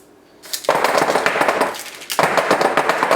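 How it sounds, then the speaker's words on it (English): A cake pan full of chocolate batter gets banged on a table a few times, giving a loud, close burst of rattling metallic knocks in two quick clusters. "And just bang it on your table a few times."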